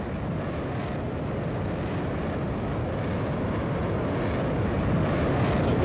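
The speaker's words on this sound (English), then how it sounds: "And there goes the F-16" An F-16 fighter jet passes at an air show, a steady broad roar of engine noise with wind buffeting, loud and continuous without a clear rise or fall.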